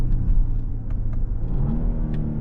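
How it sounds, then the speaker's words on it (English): A 2024 Genesis GV80 3.5T AWD SUV accelerates in sport mode, its engine a loud, rising rumble heard from inside the cabin, with brief shifts breaking the climb. "Takes off really well, shifts are nice and smooth."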